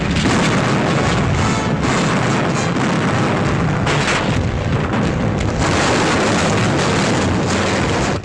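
Heavy ship's cannon fire from the aft guns of a sailing vessel during a sea battle: a dense, continuous barrage of loud booms and rumbling blasts, with several distinct heavy thuds within the unbroken roar.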